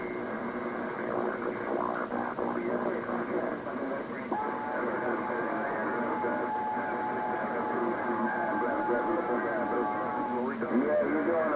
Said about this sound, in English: A little bit of distortion on the signal on sideband.